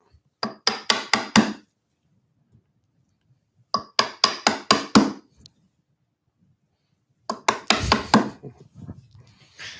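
A chisel cuts into wood while a tree spirit face is carved, in three close bursts of four to six sharp taps each, separated by silent pauses, the last burst slightly denser and rougher.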